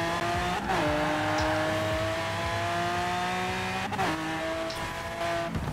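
Car drifting in the Forza racing video game, engine holding a steady high drone with shifting pitch, broken by brief tire squeals and skid bursts, loud and close with no talk.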